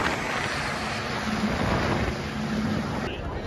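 Steady wind buffets the microphone outdoors on prom day, a continuous roaring rumble with no letup for several seconds.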